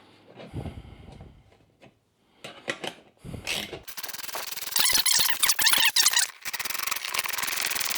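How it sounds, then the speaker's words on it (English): A nut is run down onto a bolt while assembling a heavy-duty poly yard dump cart, giving a few faint handling knocks followed by loud, rapid ratcheting and scraping bursts that continue to the end. "Just want to run that nut down till it bottoms right there."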